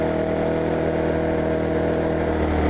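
Wen 56235i 2350-watt inverter generator running smoothly, a steady close engine drone with an even humming tone and no change in pitch, no voices.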